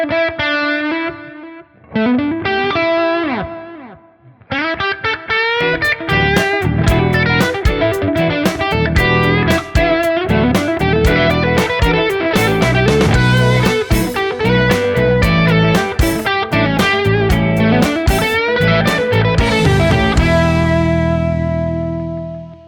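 Loud, driven electric guitar through a Dumble-style TONEX tone with delay plays a busy melodic line, notes repeating in echoing trails that blur together, ending on a sustained ringing chord.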